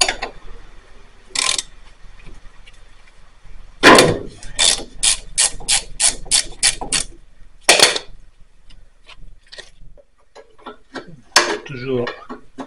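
Ratchet wrench with a 23 mm socket working a lock nut on a Peugeot 204 coupé, quick bursts of clicking pawl strokes in clusters with pauses between, close by, and brief voices in between.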